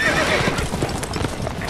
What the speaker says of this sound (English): Yeah, get those horses out of there.